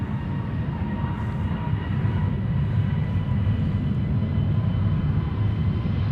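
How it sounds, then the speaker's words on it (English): A JetBlue Airbus A321neo jet takes off at Amsterdam Schiphol, giving a steady, broad low rumble with a distant engine roar that holds level throughout, no voices. "Flight 2289 to New York JFK, A321neo."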